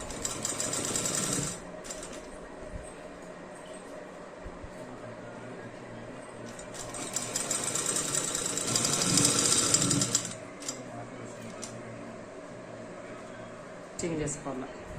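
A sewing machine runs steadily, stitching a half-inch folded hem on a child's pattu langa silk skirt. The whirring hum continues throughout, rising briefly louder near the middle, with someone talking over it.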